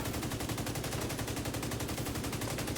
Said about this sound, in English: So when I shoot an enemy in the head